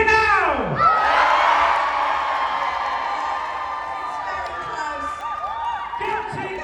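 A festival crowd at Deer Shed Festival cheers and whoops loudly to vote a mock trial defendant guilty, a burst of shouting that swells and slowly fades, with a few voices standing out near the end.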